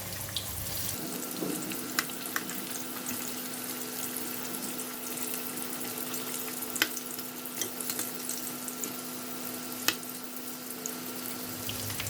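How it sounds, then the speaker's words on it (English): Pork belly deep frying in oil gives a steady bubbling sizzle with a faint constant hum beneath, punctuated by a few sharp pops and crackles spaced several seconds apart. "we're going to continue to fry for another 5 more minutes"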